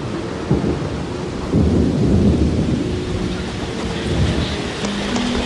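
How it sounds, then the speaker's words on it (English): Afternoon rain shower in a forest clearing, with steady rain hiss and deep rolling thunder that swells and fades over several seconds, no voices. "An afternoon shower diffuses the tension."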